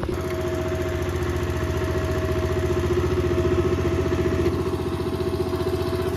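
A tractor engine idling steadily nearby on a farm at rice-seedling planting time, a continuous low mechanical chug with a faint clatter and a constant whine riding over it.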